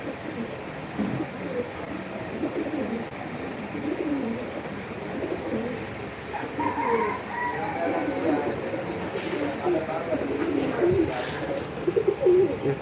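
Pigeons, many sitting on eggs in a pigeon loft, coo softly in a dense, murmuring background with overlapping calls throughout, while someone talks over them nearby.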